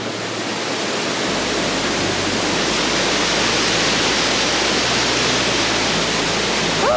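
A hidden waterfall near Harvey Dam in bushland: a constant, full rush of falling water that swells in after the first second and holds steady and close, with no voices.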